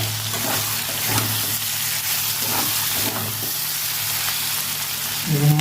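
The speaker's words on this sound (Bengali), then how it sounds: "এবার নাড়তে নাড়তে একটু ভালো ভেজে নেবো ভালো করে।" Ash gourd slices fry with mustard in a pan, giving a loud, steady sizzle close by, broken by repeated scraping strokes of a spatula as the pieces are stirred.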